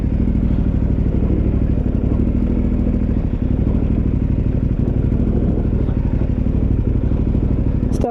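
Dual sport motorcycle on Avon TrekRider 50/50 tires descending a dirt downhill on the brakes, a steady close engine drone with clattering and occasional thuds from the rough terrain, no talk.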